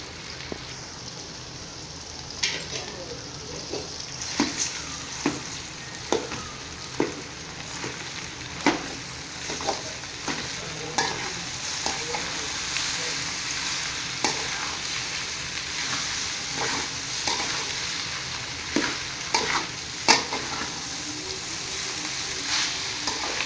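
Boiled egg noodles and softened onions are stir-fried in a pan. A constant broad sizzle runs throughout, broken by frequent sharp clicks and scrapes of a spatula tossing the noodles, close and steady with no talk.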